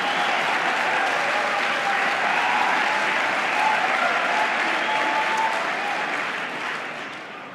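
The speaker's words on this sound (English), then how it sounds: "This is a rowdy crowd" A rowdy crowd at a presidential speaking event breaks into sustained applause and cheering, a dense, loud wash of clapping and voices that holds steady before easing slightly at the end.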